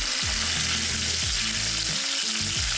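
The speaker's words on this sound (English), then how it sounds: "that's when it's time to drop the steaks in. It's beautiful. The sound of victory." Steaks searing in a hot pan make a loud, dense, continuous sizzle that stays close and even throughout, with faint low tones underneath and no voices.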